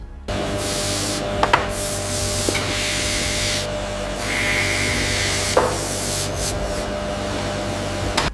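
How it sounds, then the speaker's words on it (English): Coarse file and chisel work a bull horn in a workshop, giving repeated rasping strokes with a few sharp scraping clicks, close and fairly loud with no talk. "carefully refining the contour with a coarse file before using the chisel for the fine details"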